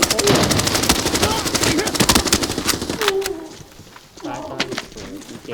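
Rapid automatic gunfire rattles through a shooter video game in dense bursts, then thins to scattered shots as players talk over it.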